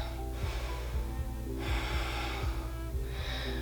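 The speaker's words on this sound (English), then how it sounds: "Breathing deeply." Deep, steady breathing during a yoga workout, with slow repeated inhales and exhales close to the microphone and audible breath noise rising and falling.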